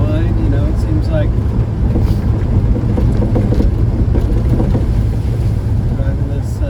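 A rattly truck drives down an old road, giving a steady, loud, rumbling engine and road noise from inside the cab with wind buffeting, continuous throughout with a voice faintly under it.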